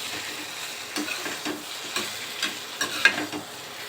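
Salt and chilli powder are stirred into a potato and egg curry, producing soft, repeated scraping strokes over a faint sizzle, close and quiet.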